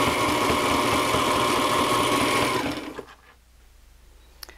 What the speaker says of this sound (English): as I'm sewing along, I just pull down on the lever and it goes right into reverse